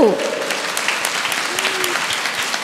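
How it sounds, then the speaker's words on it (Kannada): Audience applause fills a hall at a Tumkur Nada Dhyana meditation and music gathering: a steady, dense wash of many hands clapping, with a brief voice at the very start. "ಸೊ ಜೋರಾಗಿ ಚಪ್ಪಾಳೆ"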